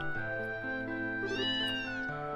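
A cat meows in the video game Trails in the Sky: one long, drawn-out, clear harmonic meow with a rising and falling pitch, close and loud, with no talk over it.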